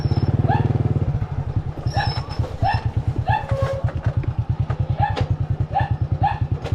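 A small motorcycle idles loudly and close, then keeps chugging at low speed as it is maneuvered into place, with dogs barking intermittently nearby and a faint voice in the background.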